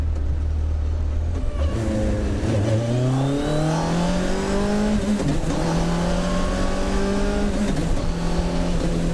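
A car with a Suzuki Hayabusa motorcycle engine revs hard and climbs through the gears, a high, raspy whine rising in pitch with each shift, loud and close.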